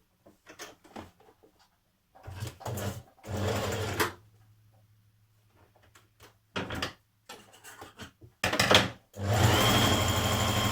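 Sewing machine running a side seam on a stretch knit top, in several separate bursts of stitching with short pauses between, fairly loud and close, with a longer continuous run at the end.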